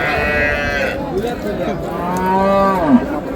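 Improved-breed dairy cows and calves at Raniganj cattle market, with a cow lowing in long, loud drawn-out moos over market chatter and people talking nearby.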